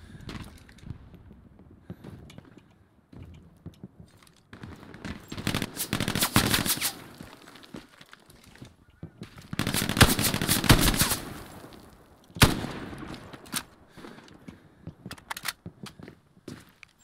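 Machine gun fire in the World War II shooter game Hell Let Loose, loud sustained bursts around the middle of the clip with quieter single shots and movement between them, no talk.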